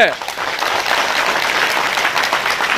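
An audience at a foundation-day function of the All Assam Nath-Yogi student union claps in a loud, sustained burst of applause, with a voice audible over the clapping.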